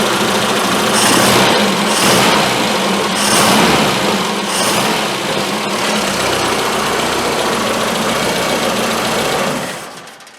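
A Triumph Spitfire's engine idles at close range after a restoration revival, a loud, steady running drone with slight surges in the first few seconds, then fading out at the end.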